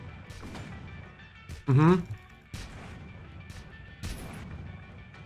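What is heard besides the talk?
shooting in My Hero Academia video game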